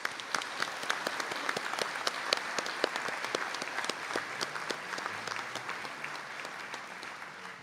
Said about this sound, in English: And I ask you to give them all a round of applause.